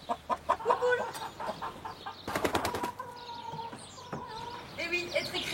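Hens cluck and squawk close by in a lively, irregular chorus of short calls, with bursts of rapid cackling and occasional wing flutters.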